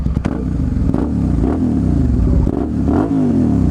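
A motorcycle engine revs hard, its pitch sweeping up and down in several loud bursts of throttle, close by and steady throughout with no talking.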